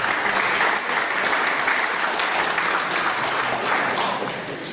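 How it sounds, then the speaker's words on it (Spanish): Sustained applause from an audience honouring a doctor after a question session at a formal lecture, dense, steady clapping filling the whole stretch at an even level. "brindemos nuevamente un fuerte y merecido aplauso al doctor Pablo Díaz Vizcoya"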